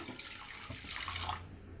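About a cup of water is poured into a kadai pan, making a soft, continuous splashing trickle that lasts under two seconds, quiet and without voices.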